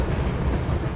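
Vande Bharat Express train running in Train Simulator Classic, a continuous dense rumble and rolling wheel noise, loud and close, with no voices.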